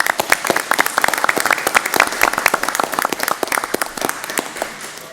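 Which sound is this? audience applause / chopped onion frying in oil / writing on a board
audience applause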